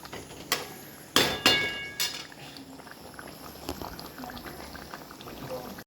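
Egg curry with potatoes simmering in a pot, a steady, quiet bubbling boil, with a few sharp metal utensil clinks near the start.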